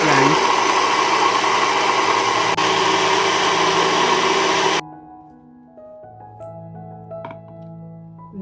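A kitchen blender whirs loudly and steadily while blending a matcha green tea smoothie, then switches off abruptly about halfway through, leaving quiet clinks and faint room noise.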